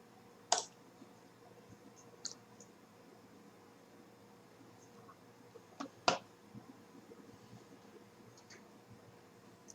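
Computer mouse clicks sound while Device Manager is opened: a few sharp, isolated clicks spread across a quiet hiss, including a near double click, with nobody talking.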